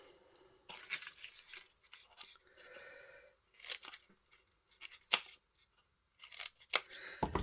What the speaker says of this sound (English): I'm going to cut some of these up actually.